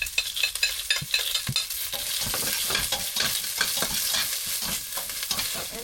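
Garlic goes into a pan of hot oil with onions for fish escabeche, sizzling and frying loudly and steadily while being stirred, with repeated scraping clatters of the utensil near at hand.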